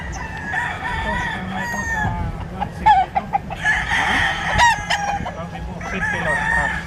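A yellow-legged Dog Island Grey gamefowl rooster with a straight comb crows nearby several times, with clucking from other fowl and steady farmyard background noise.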